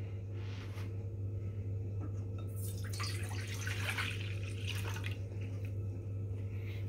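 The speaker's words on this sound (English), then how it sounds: "to which we're going to add 2 cups of water." Water is poured into a pot on a stove, a soft splashing burst in the middle over a steady low hum, faint and close.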